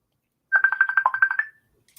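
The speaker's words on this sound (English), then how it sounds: "Let me just hang up this phone call." A phone ringtone from an incoming call: one loud, close burst of rapid, evenly pulsed electronic beeps lasting about a second, then silence.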